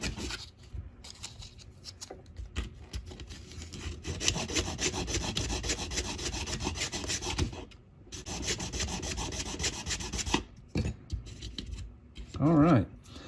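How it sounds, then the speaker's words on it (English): Steady scratchy rasping of sandpaper on a small 3D printed resin part for a 1/64 scale KT Pacer feed trailer, close up, in long continuous bursts with brief pauses, ending in a louder rub. "if not, sand until you're satisfied."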